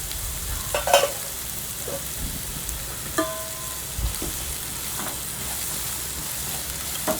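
Fried rice ingredients stir-fried in a pan with salt, a steady sizzle broken by a few scraping stirs and clinks of the spatula, close and alone without talk.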